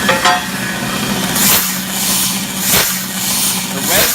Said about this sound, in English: This is an unusual long grinding time, and it gets very, very warm.